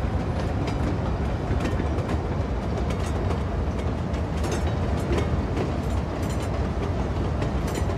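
Double-decker S-Bahn commuter train in the Cities: Skylines 2 video game rolling past with a steady, loud rumble and continuous rhythmic clickety-clack of wheels on rail joints, unbroken throughout and without any talking.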